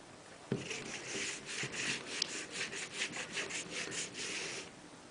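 A blade scrapes compound onto a leather strop in a rapid run of short, rhythmic rubbing strokes, close by and fairly quiet, with a sharp tap at the start and no talking.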